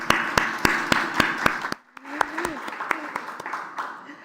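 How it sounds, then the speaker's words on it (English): An audience at a conference gives a round of applause, sharp claps repeating in a steady rhythm, then a brief pause before more scattered, quieter clapping resumes. "I really want to just give you a round of applause,"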